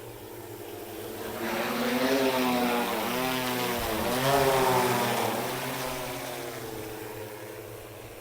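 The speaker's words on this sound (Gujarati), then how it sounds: "2 વાર એટલે કે 5 વીઘામાં દવા છાંટી લીધી છે ડ્રોને." An agricultural drone flies over a field spraying pesticide, its propellers giving a steady loud whine that swells as it passes close by, then holds and slowly eases.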